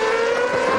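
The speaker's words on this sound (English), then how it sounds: "A unique engine note from these V8 motors with an 8-into-1 exhaust system." A GP2 race car's V8 engine with an 8-into-1 exhaust holds a loud, steady high-pitched whine during a 2005 race in Bahrain, with no pause or change in note.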